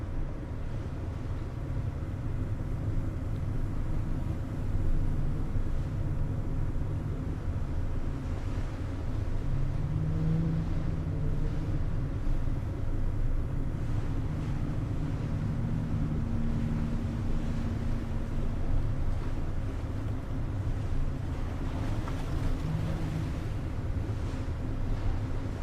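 A boat engine runs at full throttle in the video game The Last Caretaker, a steady low droning rumble that holds even and unbroken throughout, mixed with wind and water wash and no talking.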